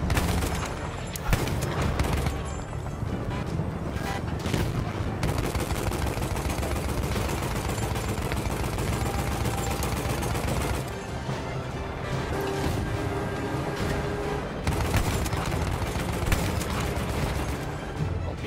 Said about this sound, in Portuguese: estão jogando bomba na gente aqui